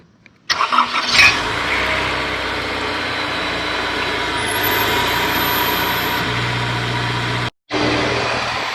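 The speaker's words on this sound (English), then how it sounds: "turn on the car and see how it sounds" A Honda S2000 AP1 engine with an aftermarket intake cranks and catches, then settles into a steady idle that runs on for several seconds, with a brief cutout near the end.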